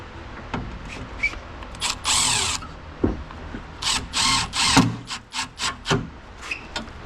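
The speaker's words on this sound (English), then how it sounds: "I got the impact driver already out" A power impact driver with a screwdriver bit whirs in several short bursts with clicks and rattling of tools between them, close by, during work on an E36 drift car.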